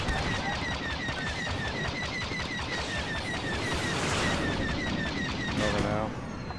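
Rapid bursts of starfighter blaster fire in Star Wars Battlefront II during a Starfighter Assault battle, continuous repeating shots with a louder blast near the end, under a busy game soundscape.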